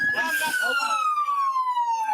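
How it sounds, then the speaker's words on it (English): A loud emergency vehicle siren sounds close by with a single steady tone that slowly falls in pitch, as a voice talks faintly at the start. "Somebody need to cut that siren off so I can hear."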